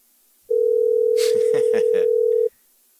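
An outgoing telephone call's ringback tone plays as one steady, loud two-second tone, with someone speaking briefly over it.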